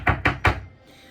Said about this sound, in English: a frantic knock shook her cottage door.